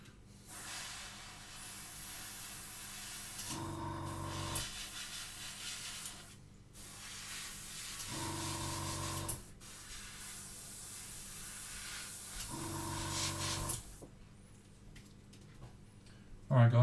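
Airbrush spraying green paint onto model parts, a steady close hiss running throughout, broken by brief pauses and low bursts of gurgling.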